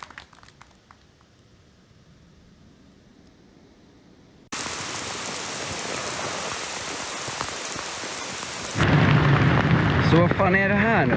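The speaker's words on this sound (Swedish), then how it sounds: "Det regnar så inåt helvete." Heavy rain roars in a dense, steady hiss that suddenly grows louder and harsher, with a voice speaking over the downpour near the end.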